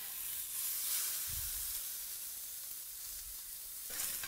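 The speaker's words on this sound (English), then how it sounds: "And now all we have to do is cook them up, but cook them thoroughly." Venison sausages frying in a pan, a close, steady sizzle and hiss that swells and fades slightly, with a brief low thump partway through, heard on its own.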